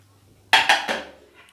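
Metal clinks and clatters as the lid of a cooled pressure cooker of boiled chickpeas is opened, a few close, sharp knocks followed by a fading rattle.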